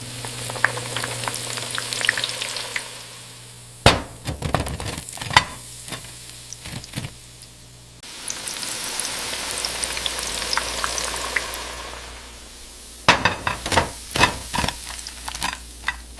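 Chicken nuggets deep-frying in an industrial fryer in a nugget factory: loud, steady oil sizzle with sharp crackles and bubbling bursts, broken into several sections with louder spattering stretches and no talking.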